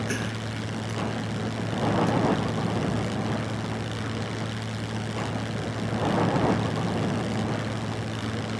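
A damaged airplane engine in a video game drones steadily with a low propeller-like hum, swelling louder twice in slow surges against a constant tonal background, with no voices.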